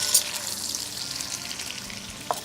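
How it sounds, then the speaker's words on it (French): Butter sizzles in a tall pan with a steady, close hissing fry and faint crackles, one short sharper pop near the end, no voices over it. "on écoute le beurre. Tant qu'il chante, c'est bon"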